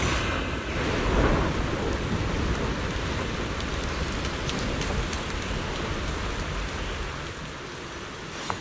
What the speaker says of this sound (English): Thunder and lightning crackles. Rain threatens to swallow the entire hidden realm.